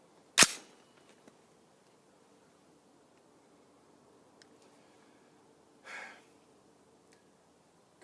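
One sharp, fairly close rifle shot from a newly built Duracoat camo project rifle, followed by quiet handling noise and a softer muffled thump a few seconds later.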